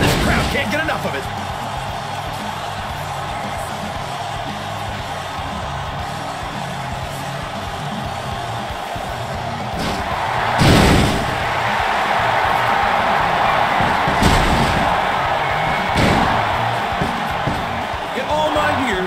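Wrestlers slam and crash against each other in a WWE SmackDown Here Comes the Pain match inside the Elimination Chamber, with thuds and impacts over a constant roaring arena crowd and an announcer's voice.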